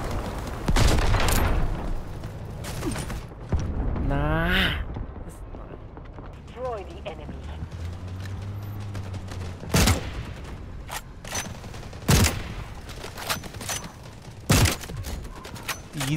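AWM sniper rifle fire in the Delta Force game: a handful of sharp, loud single reports spaced several seconds apart, set against busy in-game movement and ambient effects.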